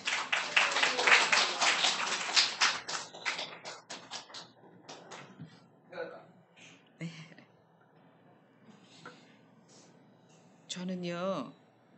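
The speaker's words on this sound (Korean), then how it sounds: "큰 박수로 모시겠습니다" Church congregation applause, loud and dense at first, then thinning into scattered claps and fading, with shuffling and a brief voice near the end.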